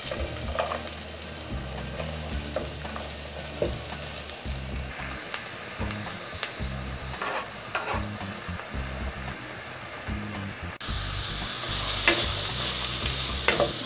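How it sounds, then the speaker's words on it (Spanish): Onion and garlic frying in hot oil in a pot: a continuous sizzle with frequent scraping stir strokes, moderately loud and close, with the sizzle swelling brighter after a brief break near the end. "Cuando está caliente, colocamos la cebolla y el ajo."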